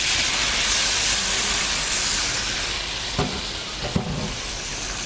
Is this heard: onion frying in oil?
yes